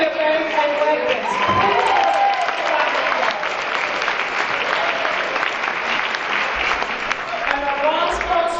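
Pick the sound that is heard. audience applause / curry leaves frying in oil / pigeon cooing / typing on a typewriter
audience applause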